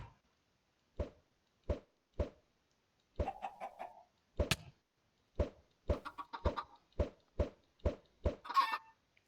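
Chicken in the Minecraft video game clucking in a regular string of short, sharp, clean synthetic clucks, a few running into quick bursts, with no talking.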